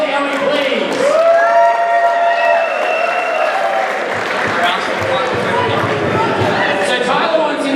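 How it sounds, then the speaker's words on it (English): Crowd at a wrestling show applauding and cheering for Ellie, a steady loud roar of clapping that fills the hall alongside a voice on the microphone. "A round of applause for Ellie, please."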